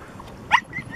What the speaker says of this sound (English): He's a fishing dog.